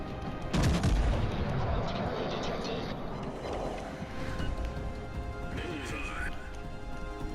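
Secondary guns on the warship HMS Agincourt fire in the World of Warships: Legends video game, giving heavy booming shots and rumbling impacts under continuous talking.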